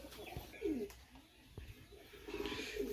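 A Pakistani highfly pigeon coos softly and low in a few short throaty phrases, faint and fairly close, with quiet background noise.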